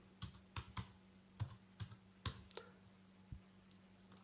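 Quiet, irregular clicks of a computer keyboard as HTML code is typed, about a dozen separate keystrokes over a few seconds against a low steady hum, with no speech.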